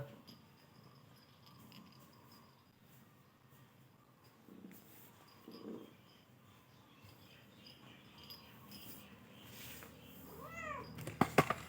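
A pet cat gives soft, quiet meows in a calm indoor setting, faint purring beneath, ending with a few louder, sharper calls close to the microphone.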